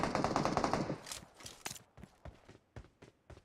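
A burst of AK rifle fire in PUBG Mobile, a fast rattling volley that breaks into separate sharp, distant-sounding single shots with gaps between them.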